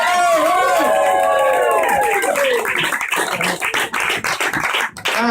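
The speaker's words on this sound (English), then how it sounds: "Can I have a massive round of applause for Selma now?" Audience at a comedy gig in a pub room breaking into applause and cheering, building to a dense, loud clatter of clapping that carries on steadily, with voices mixed in at the start.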